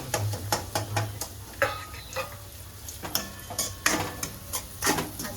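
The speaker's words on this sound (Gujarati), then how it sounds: "તો આપણો ઓઇલ ગરમ થઈ ગયું છે તો આપણે એમાં મસાલો નાખી દઈએ। ધીમે ધીમે આપણે એને મિક્સ કરતા જશું।" Dabeli masala stirred into hot oil in a pan gives rhythmic, close scraping strokes and ticking spoon contacts over a quiet sizzle, at a fairly low level.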